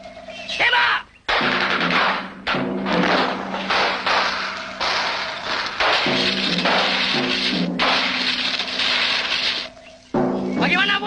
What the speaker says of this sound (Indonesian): Askar! Tembak!